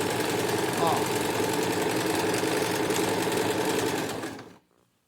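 A sewing machine runs steadily while stitching a cushion with piping, a continuous close, loud mechanical whir for about four seconds before stopping abruptly.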